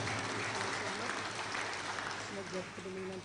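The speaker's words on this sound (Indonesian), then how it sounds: "Aplaus untuk segenap pengurus panitia lokal." Steady, dense applause from an audience at a national congress, honouring the local organizing committee. It fills the whole moment at an even level, and a voice rises faintly beneath it near the end.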